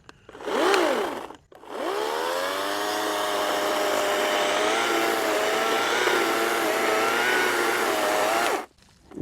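A gas-powered chainsaw cutting a tree whines steadily at high revs for several seconds after a short rev-up, then cuts off abruptly; close and fairly loud, no talking.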